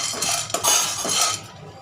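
Almond gum dry-roasted in a pan without ghee for a festive dried-fruit sweet, giving a steady close rattling, scraping clatter that fades out near the end, with no talking.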